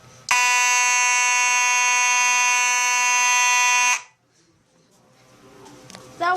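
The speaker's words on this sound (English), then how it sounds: "Okay, now it's time to test the other alarm." Old fire alarm being tested, sounding a loud continuous electronic buzz for about three and a half seconds before cutting off abruptly, followed by faint room noise.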